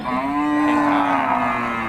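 A single loud, sustained moo from cattle at a rural cow market selling breeding cows and cows with calves, close and alone with no talk.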